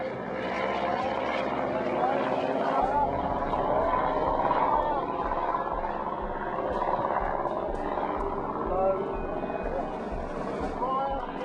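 A World War I era propeller airplane flying at night, its steady droning engine and propeller hum holding throughout, fairly loud and continuous.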